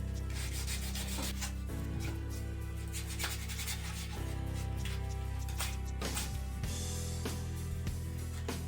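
Sanding cleans up the routed edges of a DIY JEM kit guitar body, a continuous close rubbing and scratching with uneven strokes under a steady low background hum, no voices.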